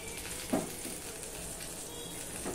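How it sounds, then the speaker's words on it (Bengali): Brinjal (eggplant) slices sizzle in hot oil in a pan as they fry until reddish, a soft, steady crackling hiss at low volume with one brief clink, and nobody speaking. "देखो बंधुरा बेगुनगुलो एरकम लाल लाल करेई भाजते होबे, ताहले खेते भालो लागबे।"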